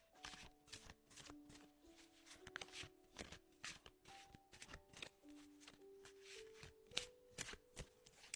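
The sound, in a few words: tarot cards being handled and drawn from the deck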